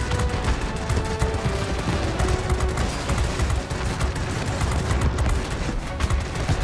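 Aircraft guns fire in World of Warplanes 2.0 in a steady, dense stream of rapid rattling shots under a constant engine roar. The sound stays loud and unbroken the whole time, with no talk.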